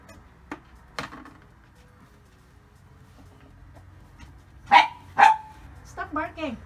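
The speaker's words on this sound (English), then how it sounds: "Stop barking." A dog barks a few times at moderate distance, with two louder barks near the end and a hen clucking faintly in the background.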